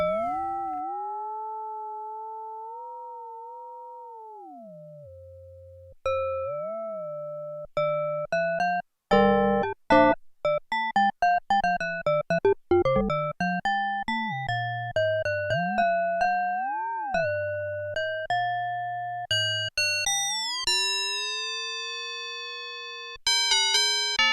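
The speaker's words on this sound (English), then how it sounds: "Really good at tubular bell emulation." Bell-like tones from an Arturia MiniFreak synthesizer's modal oscillator, emulating tubular bells, ring out in a slow melodic sequence, each struck note decaying gradually, with pitch glides between some phrases, clean and alone.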